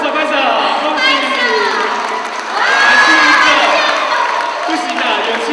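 A crowd at a Christmas thanksgiving church service claps and cheers for a raffle winner, a loud dense burst of applause mixed with excited shouting and chatter, including children's voices.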